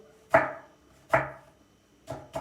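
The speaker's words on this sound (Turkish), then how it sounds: "Önce bir soğanlarımızı doğrayalım" Three sharp knife chops strike a cutting board while chopping an onion, spaced about a second apart, close and crisp against a quiet background.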